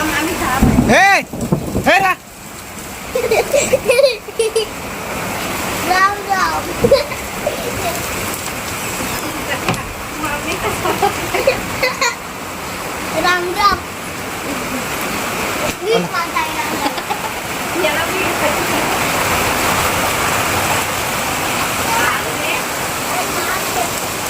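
Heavy, steady torrential rain from a storm pours down in a continuous broadband roar, soaking a house, with voices talking over it near the start.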